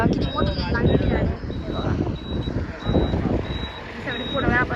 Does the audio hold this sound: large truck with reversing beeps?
yes